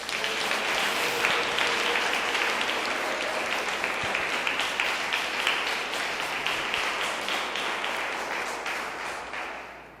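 A large church congregation breaks into sustained applause, a dense, loud wash of clapping that holds steady for about ten seconds before easing slightly at the end.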